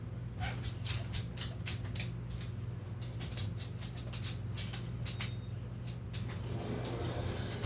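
Dogs bark repeatedly in quick bursts at a moderate distance, over a steady low hum and background rustle.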